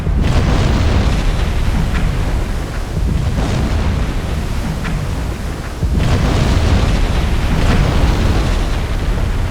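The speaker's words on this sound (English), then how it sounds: "All torpedoes hit." Torpedoes strike and explode in a naval combat video game, giving loud, continuous rumbling booms with repeated blasts throughout and no speech.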